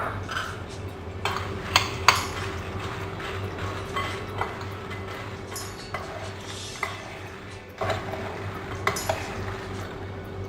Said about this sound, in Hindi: इन्हें मैं अच्छी तरह मिक्स करूँगी।